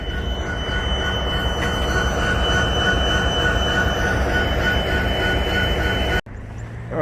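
Train in the railroad yard at Hagerstown, a loud continuous rumble of rolling railcars with steady tonal whine and squeal, cutting off abruptly near the end to quieter background.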